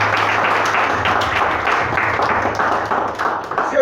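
A church congregation gives a warm round of applause, dense steady clapping from many hands filling the room, with a low hum beneath and the clapping thinning slightly toward the end.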